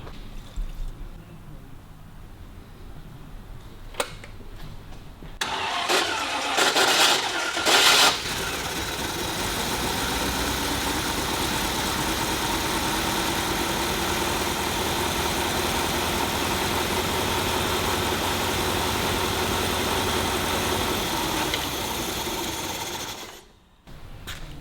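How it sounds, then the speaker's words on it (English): Starter motor on a 1937 Buick Model 41 cranking the engine with a continuous scratchy, grinding whir that runs steady and loud for most of the clip before cutting off near the end. "What's that scratching sound? Starter motor, I think."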